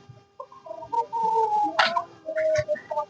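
Village poultry, chickens and roosters among desi hens and pigeons, clucking and calling close by in short bursts and overlapping notes, with a sharp louder call in the middle.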